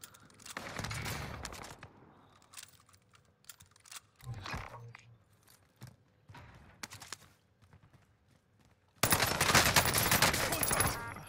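Bursts of automatic gunfire with heavy recoil in the game Warzone, a burst early on, scattered shots through the middle, then a loud sustained volley at the end, with no talk.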